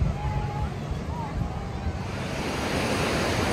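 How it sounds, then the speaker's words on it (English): Sea waves at Colva Beach in Goa, a continuous rushing surf wash with wind buffeting the microphone, steady and fairly loud. "this is the sea"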